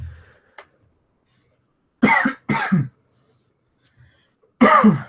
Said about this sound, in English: I felt a cough come in there